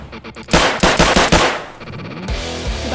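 Rapid automatic gunfire in a battle royale video game: a loud burst of closely spaced shots, then quicker, lighter rattling volleys that continue to the end.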